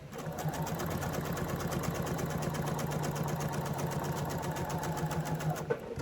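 A sewing machine stitching quilt pieces together, running in a steady, fast mechanical chatter with an even hum beneath, continuous for several seconds at close range with no talk.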